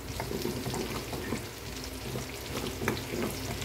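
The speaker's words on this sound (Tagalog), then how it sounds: "sa parehong kawali, gigisa na natin yung ating bawang." Garlic sautés in oil in a frying pan while cooking pork binagoongan, a steady close sizzle with faint crackles and a few soft stirring scrapes throughout, with no talk.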